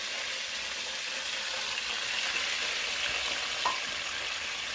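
Oil sizzles and crackles steadily in a pan as tomato puree cooks after deep frying for a chicken curry, a close, continuous hiss with a faint clink near the end and no voices.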